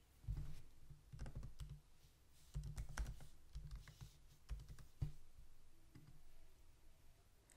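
Typing on a computer keyboard, with bursts of quick, close key clicks separated by short pauses, alone in a quiet room.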